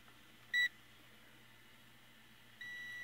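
A multimeter set to ohms gives a short electronic continuity beep as its probes touch during testing of an old Crosley battery farm radio, then a second steady tone starts near the end; quiet background hum, no talk.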